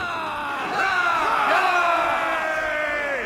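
A pirate ship's crew in Assassin's Creed IV Black Flag lets out a loud, sustained group cheer, many voices whooping and yelling together, close and continuous for about three seconds.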